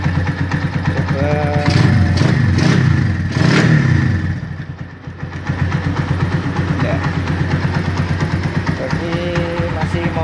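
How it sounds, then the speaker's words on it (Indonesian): A Honda Tiger motorcycle with a new regulator rectifier and battery idling nearby, a steady pulsing putter with a mechanical clatter and brief revving, while someone talks over it. "Motor sudah saya hidupkan."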